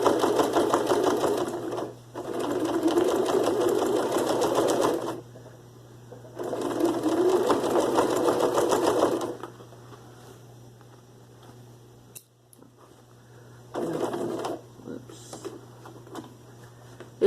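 A sewing machine stitches a simple fabric bag in several steady whirring bursts of a few seconds each, separated by pauses, with softer fabric handling and a short final run near the end.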